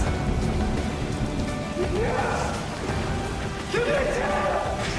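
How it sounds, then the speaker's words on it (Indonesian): Steady heavy rain hissing throughout, with a voice speaking over it. "Dia aja ngasih tahu suara hujannya sekencang itu"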